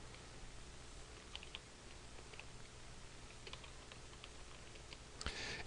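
Quiet, sparse typing on a computer keyboard while entering text into a spreadsheet cell, a handful of soft key taps scattered over a low background hiss, with one sharper click near the end.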